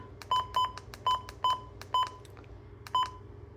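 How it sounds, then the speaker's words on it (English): A series of six short electronic button beeps from a Midland WR-120 weather alert radio sounds at irregular intervals over a quiet background hum, each a crisp, single-pitched tone. "Button beeps. So you can turn this button beep off."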